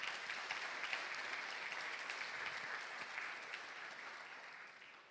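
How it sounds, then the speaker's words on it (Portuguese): Steady applause fills a church during a victory worship service, many people clapping together in a continuous, even roar that tapers slightly near the end. "Você pode aplaudir o Senhor em nome de Jesus?"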